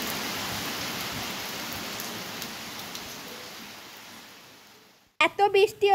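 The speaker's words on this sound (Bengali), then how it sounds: "তোমরা শুনতে পাচ্ছ কত জোরসে বৃষ্টি পড়ছে" Heavy rain pours down outside in a dense, steady hiss that slowly fades, then a voice speaks briefly at the end.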